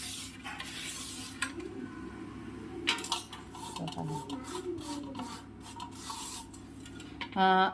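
A copper vessel is scrubbed clean with lemon and Kavi powder, giving a steady rasping rub with scattered metallic clinks and scrapes of the pot, close and fairly quiet.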